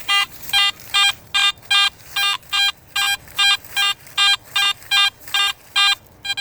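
Metal detector signal tone sounding over buried lead on a ridge at a Civil War battle site, a bright electronic beep repeated about fifteen times in a steady, even rhythm, loud and close with no talk.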